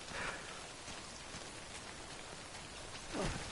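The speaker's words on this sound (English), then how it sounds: "And it's raining again." Rain falling in the video game Death Stranding, a steady, faint, even hiss of rainfall with no voices over it.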